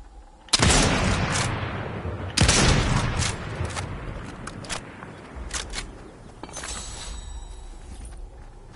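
Gunfire in Fortnite arrives as two heavy, close blasts with broad booming bodies. A scatter of sharper, lighter shots and clicks follows, spread unevenly across the stretch with no voices.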